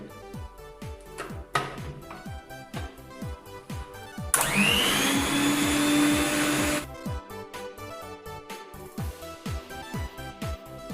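An electric mixer whirs loudly for a few seconds through melted-chocolate brownie batter, a steady high motor whine set between stretches of quieter clinking and scraping in the bowl.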